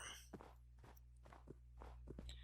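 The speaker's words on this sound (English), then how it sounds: "So I hear footsteps." Footsteps in Minecraft, a series of soft, evenly spaced steps close by over a low steady background hum.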